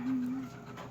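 A puppy pants and gives a short whimpering whine near the start, quiet and close, followed by soft breathy panting, with a faint voice in the background.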